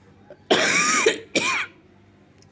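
A person with a cold coughs twice, close and clear, with a short pause between the two harsh bursts and nothing else around them.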